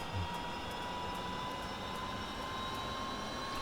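Steady, continuous turbine whine and hum of a Huey helicopter engine spooling up during startup in the DCS flight simulator game, with a constant high tone over broad rumble and no speech.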